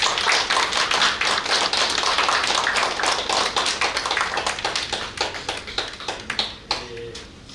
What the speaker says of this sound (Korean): 여러분 박수를 부탁드리겠습니다